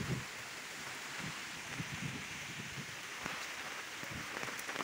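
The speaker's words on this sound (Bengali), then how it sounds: "আবার ঝড় উঠছে, প্রচণ্ড ঝড় উঠছে আবার" Rain falling during a cyclone storm, a soft constant wash of drops with light rustling, fairly faint and distant, without voices.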